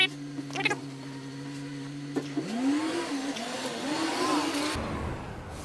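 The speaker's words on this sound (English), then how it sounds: "I'm just gonna let the garbage truck go past" A garbage truck passes nearby, its engine and whine rising then easing with a couple of clanks, fairly quiet and low before cutting off, with a person talking at moments.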